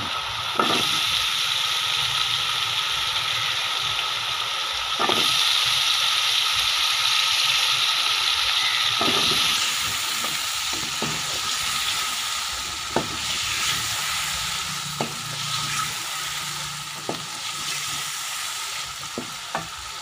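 Potatoes frying in a pan for aloo palak, a steady hissing sizzle with periodic sharp scrapes and knocks of a spoon stirring, close and continuous with no talk.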